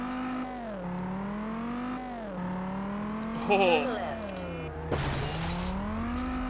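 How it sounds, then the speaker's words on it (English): Car engines in the 2006 PS2 racing game Test Drive Unlimited rev with a steady droning note that climbs and dips through gear changes. A brief tire screech cuts in midway, and a voice speaks briefly. "the engines don't sound too bad for a game that came out in 2006"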